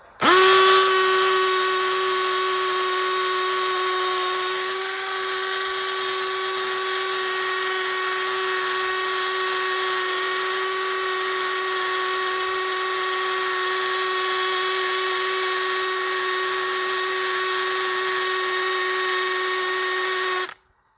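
A drill whines at a steady high pitch for about twenty seconds, loud and close, boring into metal on a Honda XL185 motorcycle without pause, then stops abruptly.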